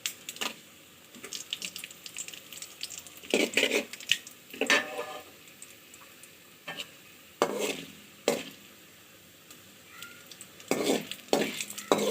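Urad dal and dried chillies fry in oil as a spoon stirs them, with soft sizzling broken by repeated scraping strokes at an uneven rhythm, close and fairly quiet, with no voices.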